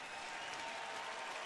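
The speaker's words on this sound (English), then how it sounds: "Crowd appreciating the battle here." A baseball crowd in a stadium applauds, a faint, distant, steady wash of clapping and crowd noise.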